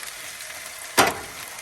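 Potatoes frying in a pan on a camp stove at a truck bed campsite, a steady soft sizzle with one brief sharp flare of spattering partway through.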